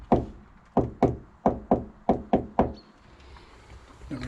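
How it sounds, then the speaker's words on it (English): Seven sharp knocks on a sound-deadened wheel arch panel inside a Peugeot Expert van, spaced irregularly and dull with a quick decay, followed by faint rustling. "Give this one a knock."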